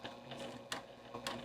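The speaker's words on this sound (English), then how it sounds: "I'll go forward a few stitches and then do a back stitch" A domestic sewing machine stitches a fabric coaster forward and then in reverse, giving a quiet mechanical whir with a few sharp rhythmic clicks spaced about half a second apart, close and alone.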